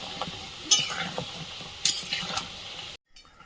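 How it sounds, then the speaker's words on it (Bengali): Gaja sweets frying in oil, a steady moderate sizzle with a few sharp utensil clinks and stirring scrapes, cutting off abruptly near the end. "আস্তে আস্তে কত সুন্দর একটা রং ধরে ভাজা হচ্ছে"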